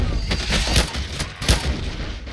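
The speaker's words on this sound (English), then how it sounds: "Let's shoot the gas thing too, that sounds like a good idea." Gunfire aimed at a gas canister in Left 4 Dead 2, with a few sharp, loud shots and booming bursts over a dense, busy game soundscape.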